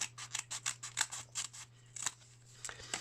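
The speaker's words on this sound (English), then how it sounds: "you get your scissors and we cut" Quick, crisp snips of scissors cutting paper, a rapid run of cuts followed by a few slower, spaced ones, close and quiet.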